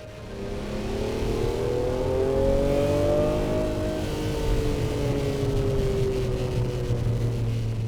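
A car accelerates hard with its engine screaming, the revving pitch climbing through the gears and dipping between shifts, loud and close with no talk.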